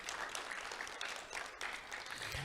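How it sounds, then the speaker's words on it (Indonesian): Church congregation applauding during a Sunday sermon at an Indonesian Pentecostal church, steady dense clapping filling the whole moment with no voices over it. "Tepuk tangan buat Yesus Kristus, haleluya."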